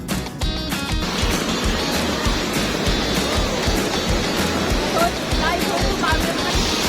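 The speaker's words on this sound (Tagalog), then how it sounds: "Dito na daanan namin yung maliit na falls." A small waterfall on a river rushes with a constant, broadband roar of falling water, heard close and fairly loud, with some brief background noise near the start.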